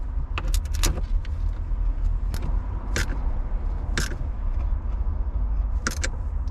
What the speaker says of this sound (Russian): И потом устанавливаем минусовую клемму аккумулятора.